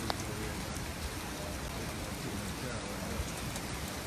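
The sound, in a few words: rain falling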